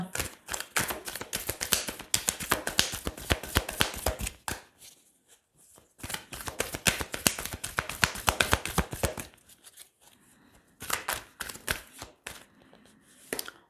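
Tarot cards are shuffled and drawn in three bursts of rapid riffling and slapping, with short quiet pauses between them. The sound is close and crisp, and nobody speaks.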